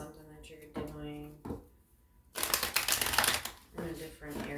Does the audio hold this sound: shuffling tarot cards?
yes